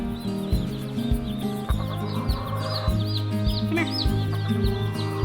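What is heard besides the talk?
chicken clucking, hen named Wobbles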